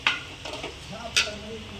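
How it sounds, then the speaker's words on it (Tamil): Mutton stirred with thick yogurt in a cooking pot, giving a few brief close scrapes and clinks of a spoon over a low background, with no talking. "நம்ம வந்து தயிர் சேர்த்து நல்லா கிண்டிட்டோம்"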